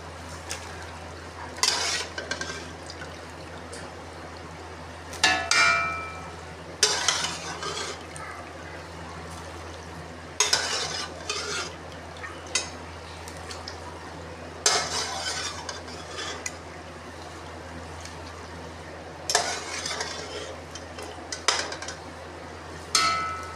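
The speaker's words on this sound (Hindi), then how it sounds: "यहाँ पे जो हमारा मसाला है वो अच्छे तरीके से भुन चुका है। इसमें अब हम शामिल करने लगे हैं" Beef and masala being stirred and fried in a pot for beef kadai, with intermittent bursts of spoon scraping and clattering against the pot over a low steady background, no talking.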